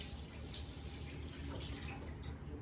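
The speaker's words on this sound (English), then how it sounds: "let me rinse off my hands a little bit here" Tap water runs steadily into a kitchen sink as hands are rinsed, a faint, even splashing hiss with no break across the short stretch.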